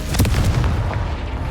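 Confringo fire spell explosion in the game Hogwarts Legacy: a loud, close burst with a sharp crack and booming low rumble that trails off over about a second and a half, no talk.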